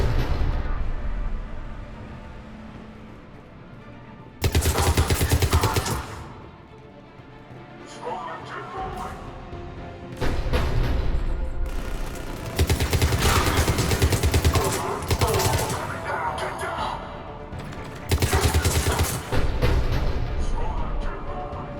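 Heavy cannon and gunfire barrages from Mass Effect 3, set during a battle on Tuchanka, boom in loud repeated bursts that come and go with brief quieter gaps over a rumbling battlefield bed.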